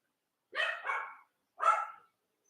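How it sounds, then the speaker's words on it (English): Dog barking: three sharp barks, a quick pair followed by a single one after a short pause, clear and fairly close with silence around them. "Max is barking."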